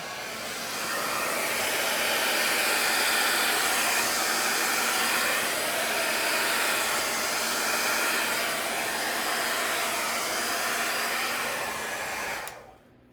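A hair dryer blows steadily and loudly across a wet acrylic paint pour mixed with Floetrol, a constant whooshing roar that holds for about twelve seconds before cutting off.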